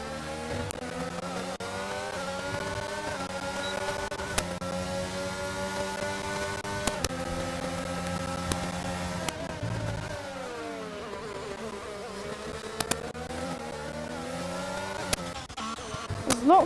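Formula 1 race cars in the F1 2022 video game scream past in a multiplayer race, several high-pitched engines whining and shifting pitch together, with sharp clicks and brief bursts, loud and continuous throughout.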